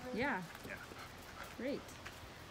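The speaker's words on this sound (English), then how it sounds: "Excuse the dog barking." A dog barks and yips a couple of times indoors near a stone sculpture display at an art center, short whiny barks in two bursts, partly under nearby speech.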